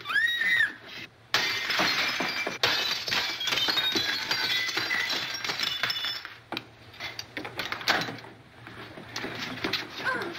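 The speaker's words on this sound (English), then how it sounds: "May I suggest, sir, that you break the glass?" Glass in a door shattering in a 1941 film, with a sharp crash followed by a long spill of tinkling, clinking shards falling and scattering, then a few later clinks and faint shuffling.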